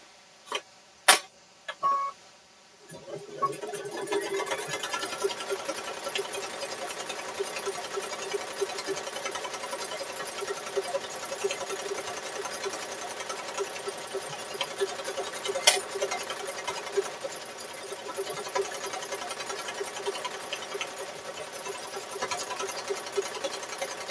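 A sewing machine stitches binding onto a Christmas quilt inside a fifth-wheel toy hauler. After a few opening clicks it settles into a loud, continuous, rapid mechanical whir that runs steadily to the end.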